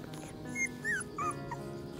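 An unweaned puppy left alone in its nest whimpers with thin, high whining cries, a few short rising-and-falling whines in a row, fairly close and with no talk over them.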